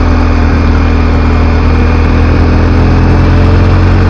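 A 2022 BMW R1250 GS Adventure, a 249 kg motorcycle with a 1250 boxer twin, runs with a loud, smooth, steady engine drone that holds evenly from start to end, close to the microphone, with no talking.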